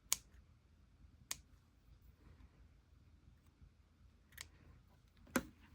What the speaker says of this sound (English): I can trim some of the yarns that are a bit too long